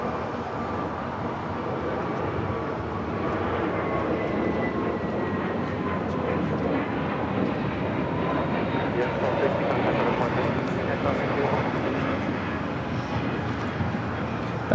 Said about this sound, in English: That was United Airlines 1260 taking off to Denver on the A321neo.